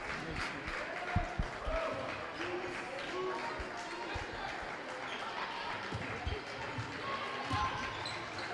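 Fans in a gym crowd at a girls high school basketball game clap steadily in a sustained, moderately loud patter, mixed with ball bounces, sneaker movement and a commentator's voice talking throughout.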